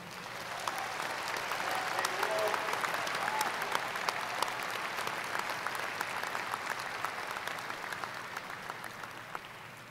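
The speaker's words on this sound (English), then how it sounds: "giving a round of applause to the people who helped you get here" Graduates at a university engineering commencement ceremony give a sustained round of applause, a dense wash of many hands clapping steadily across the whole stretch at moderate distance, with no voices standing out.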